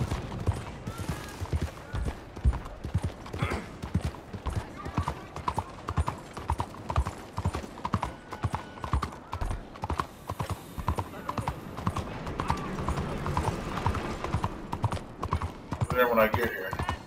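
Galloping horse hooves from Red Dead Redemption 2 thud in a steady fast rhythm throughout, close and prominent, with a player talking over them and some game ambience and clatter around.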